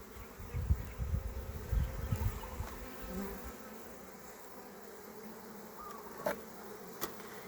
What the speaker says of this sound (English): This is where the bees are making and storing honey.